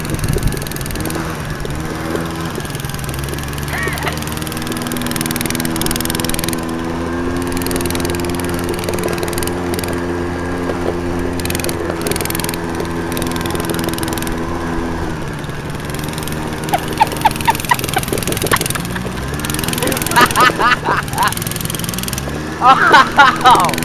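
A small minibike engine with hardly any muffler runs loud and close, a raw buzzing drone that holds steady, then revs up in sharp bursts toward the end.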